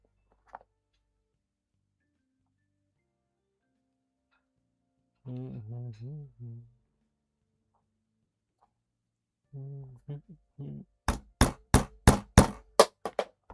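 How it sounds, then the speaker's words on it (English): A hammer taps on a leather working project at a desk, a quick close run of about eight sharp, evenly spaced knocks near the end, after a few stretches of quiet talking. "I heard the hammer wasn't that bad on the audio"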